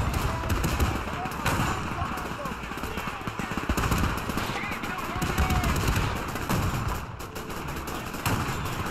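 Machine gun fire from a nest in the Men of War 2 World War II strategy game rattles steadily through a dense battle din, with other gunfire and a voice speaking over it.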